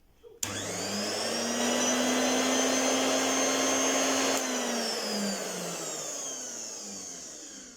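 Electric fabric cutting shears, a small motorized tailor's cutter, start up and run with a steady whining hum for several seconds, then wind down toward the end, heard close and loud with no talk.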